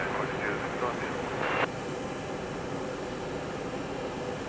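An airliner at Houston Intercontinental Airport gives off a steady, distant jet engine rumble, with a brief louder hiss near the start before it settles into an even drone.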